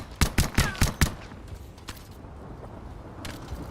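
Five quick pistol shots ring out in a rapid burst from an oversized sidearm in the game Anthem, followed by a few scattered fainter shots and low ambient rumble.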